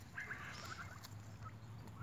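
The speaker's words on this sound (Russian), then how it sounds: "Хорошие гуси, но требуют травы, требуют пастбища." Geese honk and call in a scattered flock, several birds overlapping, with a low steady hum running underneath.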